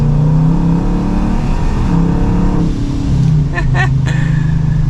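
A loud 1100 HP Dodge Charger Scat Pack engine roars under hard acceleration, its pitch climbing and then dropping at each gear shift, close and continuous.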